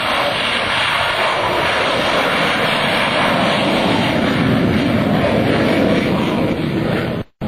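An F/A-18C Hornet at an air show at NAS Oceana roars steadily and loudly as it throttles up into afterburner on a touch-and-go pass, a dense continuous blast that cuts off abruptly at the very end.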